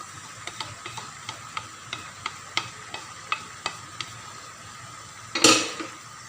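Pork with bagoong stirred into pinakbet vegetables in a pan, a utensil scraping and clicking against the pan in a steady rhythm of about a dozen taps, faint sizzling underneath, ending in one louder clatter.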